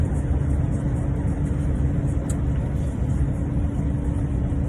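Steady low engine rumble and road noise fill the inside of a truck cab while driving at night, loud and continuous with no talk.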